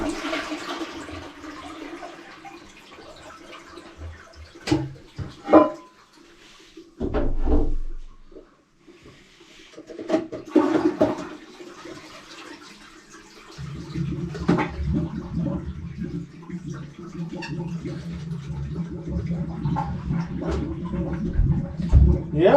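Water gurgling down a clogged toilet stack drain, heard close: a flush-like rush, clunks and knocks, then a sustained rough gurgling and churning that grows toward the end.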